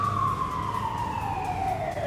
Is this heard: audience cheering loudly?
no